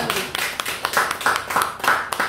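A Korean church congregation claps together in a quick, even rhythm, with sharp hand claps repeating several times close by.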